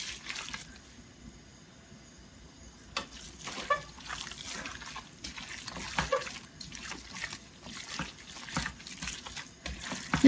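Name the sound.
water poured from tap into plate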